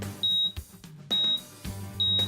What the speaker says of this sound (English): it will audibly beep letting you know when the TPW cell is ready to be realized